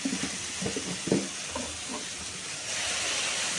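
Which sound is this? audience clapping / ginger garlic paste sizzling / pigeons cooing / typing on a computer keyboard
ginger garlic paste sizzling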